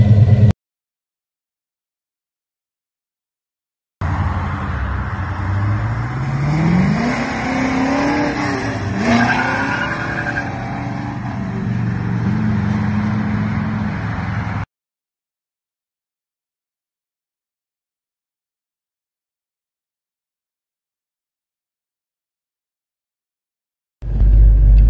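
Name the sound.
1966 Pontiac GTO accelerating through the gears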